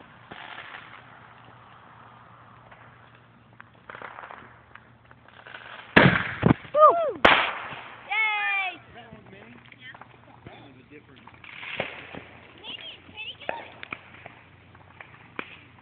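Backyard fireworks bought in Missouri going off in a burst of loud cracks and pops with whistling, sizzling bits, followed by scattered smaller bangs while people chat nearby.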